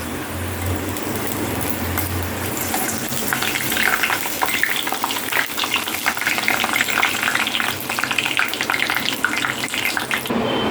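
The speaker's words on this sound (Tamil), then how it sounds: "இதுக்கப்புறம் அப்பளம் ஃப்ரை பண்ணிக்கலாம்" Papad (appalam) fries in hot oil in a home kitchen, a loud, steady crackling sizzle that grows busier midway and continues throughout.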